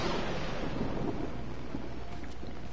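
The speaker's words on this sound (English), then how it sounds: "A little bit of thunder." Low rumbling thunder in the horror video game Outlast rolls steadily and broadly through the whole stretch, a dense, continuous growl with no voice over it.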